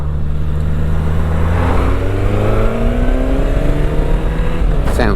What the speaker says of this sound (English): Sounds lovely, this engine.